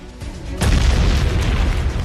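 A deep explosion booms in a documentary about a raid on a terrorist hideout in Pakistan, striking suddenly and rolling on as a heavy sustained rumble.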